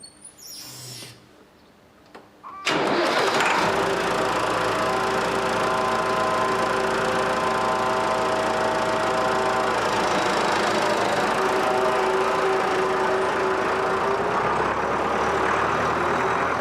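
A tractor engine starts up and then runs steadily and loudly at close range, a continuous droning rumble that holds through the rest of the stretch after a short quieter lead-in.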